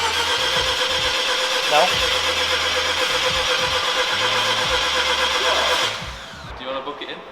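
A used Mazda RX-7 FC with a rotary engine starts and runs at a steady, loud idle for about six seconds, then the engine note drops away while people talk nearby.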